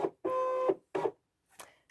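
Digital cutting machine loading a card on its cutting mat: short motorized whirring bursts with a steady tonal hum, three close pulses separated by pauses, then a faint click.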